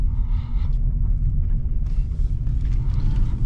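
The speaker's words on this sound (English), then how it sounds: "We're just here to do a quick little 3-point turn and get out of here" A 2021 Mercedes-Benz E53 AMG idles and creeps through a three-point turn, a steady low engine rumble close by with faint mechanical shifts and no talking.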